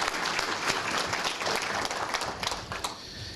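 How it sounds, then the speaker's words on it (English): A room full of people applauds county commissioners at an economic development awards ceremony, a dense, continuous patter of clapping at steady loudness throughout. "I'm going to clap for our county commissioners,"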